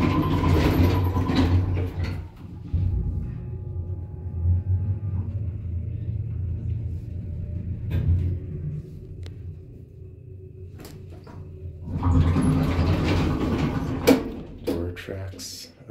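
A 1994 Atlas Omega II traction elevator in a residential tower, heard descending to the basement: a steady low mechanical rumble runs throughout, with louder sliding and clattering bursts near the start and the end.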